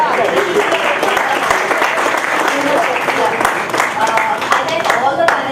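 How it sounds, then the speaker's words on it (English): Audience applause for conference panelists after a session on coverage of women in media, a dense steady wash of clapping filling the room for several seconds with some voices mixed in. "big round of applause"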